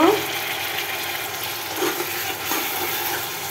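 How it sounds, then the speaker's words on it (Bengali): Spiced chicken for a roast is stirred and fried in masala in a pan, giving a continuous soft sizzle with light scraping of the spoon, steady and close, with no talking. "এই মশলা দিয়েও বেশ কিছুক্ষণ নাড়তে হবে, ভালো করে কষিয়ে নিব"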